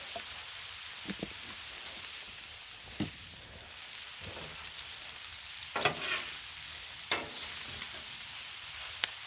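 Oil sizzles on a Blackstone griddle under hamburger meat, a soft steady crackle joined by a few sharper scrapes and taps from a spatula, fairly quiet and with no voices.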